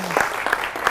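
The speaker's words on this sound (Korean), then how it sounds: "박수 한번 해주시죠" A brief burst of audience applause at a lecture on Korean entrepreneurs, with a voice speaking alongside it for about a second.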